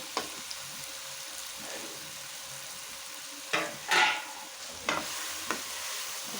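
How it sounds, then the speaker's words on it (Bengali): Cooked leafy greens, a mix of many kinds of saag, stirred in a pan with a few scattered scrapes and clacks of the spatula over a faint, quiet sizzle. "কিছুক্ষণ নেড়ে নেব।"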